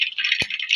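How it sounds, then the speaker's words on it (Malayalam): A dense, crackling rattle of mustard seeds popping in hot oil, close and continuous, with one sharp pop in the middle. "നമ്മുടെ കടു പൊട്ടാൻ തുടങ്ങിയിട്ടുണ്ട്"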